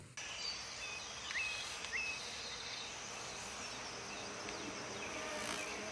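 Wasps buzz faintly and continuously, with a few insects droning briefly closer, in a forest scene from The Hunger Games where a wasp nest hangs on a tree branch.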